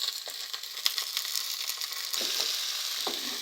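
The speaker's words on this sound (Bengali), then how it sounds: "এখন এর মধ্যে দিয়ে দিব মাছের টুকরোগুলো।" Fish pieces dropped into a pan over onions for a Bangladeshi potato ghati, a steady bright sizzle of frying with a few soft stirring knocks, close and alone without voices.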